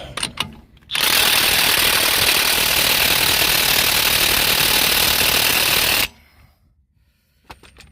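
An impact gun tightens the front wheel bearing on a Land Rover Discovery 4 in one loud, continuous hammering burst lasting about five seconds, close up, with brief clatter before and after.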